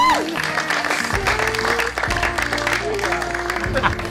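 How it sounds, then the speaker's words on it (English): Wedding guests applaud outdoors, a brisk patter of many hands, loud and close, layered over music with sustained tones and a low steady beat, while voices murmur underneath. "give yourself an applause"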